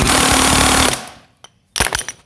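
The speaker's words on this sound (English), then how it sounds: "Just put your socket on there like that." A socket wrench works loose a bolt on a Greensmaster 1600 greens mower's bed knife bar assembly, giving a loud, dense burst of rapid ratcheting for about a second, then a brief quiet and a second sharp metallic clatter.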